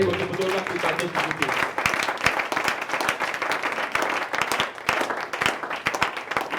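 A church congregation claps and acclaims during a sermon, dense, sharp handclaps forming a continuous, lively burst with voices mixed in beneath the clapping.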